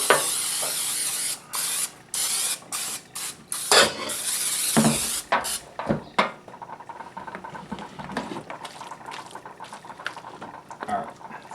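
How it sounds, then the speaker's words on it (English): Cooking spray hisses into a baking dish for potluck mac and cheese in several short, sharp bursts, followed by quieter light clatter and handling sounds. "we're going to take a little bit of cooking spray"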